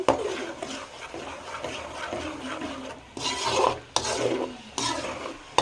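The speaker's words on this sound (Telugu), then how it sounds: "ఇలాగ పేస్ట్ రెండు బాగా కలుసుకోవాలి" Tomato paste and fennel-poppy seed paste being stirred together in a pan, close wet scraping and rubbing strokes in uneven bursts with short pauses, no talk.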